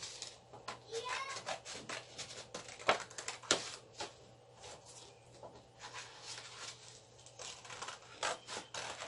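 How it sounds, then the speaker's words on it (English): Scissors cutting through a paper mask, with quiet close snips and rustling paper repeating irregularly at low volume, and no voices. "And the mouth side we are going to cut it too."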